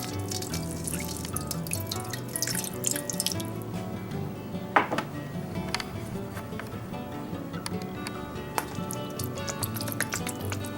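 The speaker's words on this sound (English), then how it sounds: "First, just put a little water in while it's heating up." Water splashes and drips into a heating pan for vegetarian fried rice, a quiet continuous trickle with scattered small clinks and splats, no talking.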